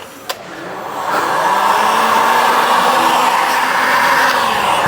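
A heat gun blows steadily on a plastic wheel arch of a Land Rover, a loud continuous whooshing hum that starts after a short click and holds constant, with no voices.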